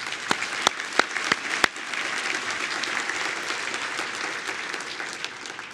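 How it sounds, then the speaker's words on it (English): Audience at a community foundation philanthropy celebration applauding the event sponsors, a few distinct claps rising into steady, full crowd clapping that carries on evenly. "Let's give them a round of applause as well."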